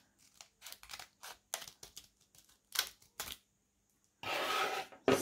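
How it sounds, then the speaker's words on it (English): Scissors snipping through paper during a children's folding craft, a series of short crisp cuts and rustles close by, followed by a longer rough tearing or rubbing sound near the end. "we're going to tear or use our scissors to cut from around where this line ends"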